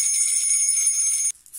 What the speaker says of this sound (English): some jingle bells,